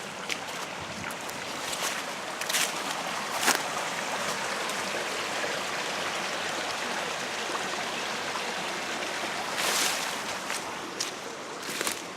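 Water rushes and gurgles steadily along a dug ditch nearby, a continuous flowing wash with occasional brighter splashes.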